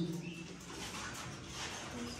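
Pigeons in a new cage coo softly at a distance, a few low murmuring calls over faint background noise with no clear talk.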